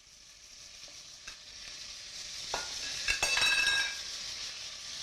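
Pieces of lamb fry in a pan after oil is poured in, a hiss swelling louder midway with a few clinks of a utensil against the pan, close by.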